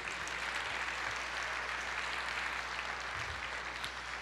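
A church congregation at an Easter service applauds together, a sustained wash of many hands clapping that fills the room evenly, with a low electrical hum underneath.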